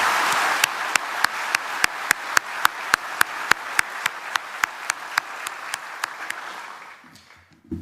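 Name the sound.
audience applause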